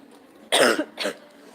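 A single close, sharp cough followed by a shorter second cough, then quiet.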